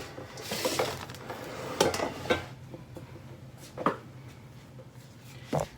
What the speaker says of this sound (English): now I'm going to get the roasting pan and put it in the roasting pan